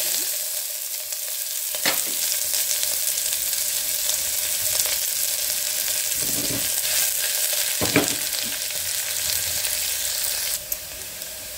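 Chopped onion fries in hot oil for bamboo shoot palya, a steady, loud, close sizzle with a few brief stirring clatters, and no voices.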